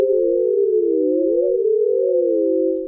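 Several MPE synth notes from Ableton's Wavetable instrument hold as one steady chord. Their pitches wobble and cross independently in a smooth, warbling drone that stays sustained and loud throughout.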